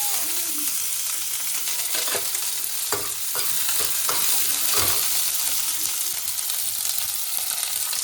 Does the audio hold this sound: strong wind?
no